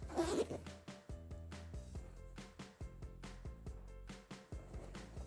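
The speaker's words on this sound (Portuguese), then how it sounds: "Alinho meu zíper aqui nesse lado" A zipper is handled and aligned with fabric while a necessaire box is sewn, giving quick, scratchy rasps and clicks. Steady, tuneful background music plays under them.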